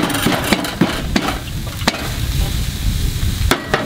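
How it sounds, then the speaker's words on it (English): Loud sizzling of an onion burger searing on a hot griddle, with scraping and clacking of a spatula pressing down, close up. "That's that sear you want to hear."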